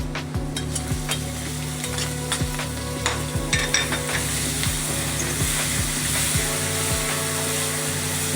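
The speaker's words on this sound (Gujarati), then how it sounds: "એટલે એમાં આપણે મરચાં નાખીએ, કટકી કરેલા છે" Chopped green chillies drop into hot oil with browned garlic, giving a steady close sizzle and frying crackle, with spoon stirring and tapping against the pan in an uneven rhythm throughout.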